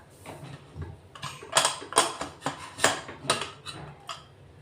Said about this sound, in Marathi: आपला कुकरही आता थोडा थंड झालाय. आपण उघडून घेऊ आता.